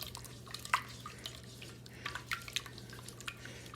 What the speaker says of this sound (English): And then you're supposed to pour a little juice in there.